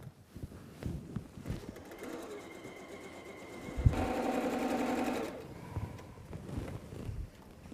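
Sewing machine chain piecing quilt blocks for a butterfly throw quilt, a steady mechanical whir running for about a second and a half amid soft handling noises, with no talking.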